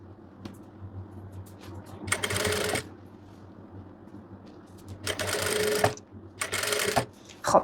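Sewing machine stitching bias tape onto palazzo pants, running in three short bursts of rapid mechanical whirring separated by quieter pauses with faint handling noise, close up.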